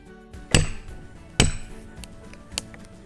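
A log chopped for live edge wood coasters, with two sharp, loud chopping impacts followed by a weaker knock as the cut log gives way and topples, close to the recording device, with no talk.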